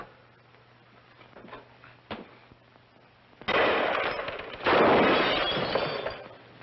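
Film gunfire: faint scattered cracks and a brief sharp snap, followed by two loud bursts of crashing, shattering noise, with glass-like breaking and blasts close up.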